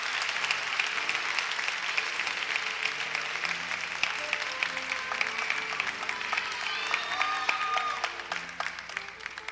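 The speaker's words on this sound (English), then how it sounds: "Let's give them another round of applause." An audience at a 1985 college beauty pageant applauds the contestants with steady, dense clapping heard from a distance throughout, fading slightly near the end.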